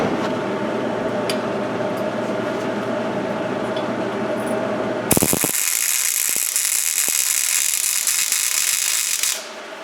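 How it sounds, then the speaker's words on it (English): A MIG welder fills in the gap between tack welds on a joint, making a continuous loud crackling buzz. A harsher, brighter arc stretch comes in midway and stops abruptly near the end. "we fill in that area to make a full weld there"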